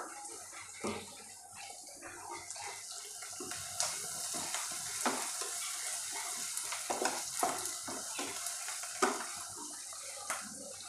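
Asafoetida dropped into hot oil for a broccoli dish, a soft crackling sizzle with scattered clinks and a running-water wash behind it, fairly quiet and without speech.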